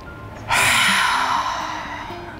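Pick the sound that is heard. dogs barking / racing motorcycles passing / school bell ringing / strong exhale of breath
strong exhale of breath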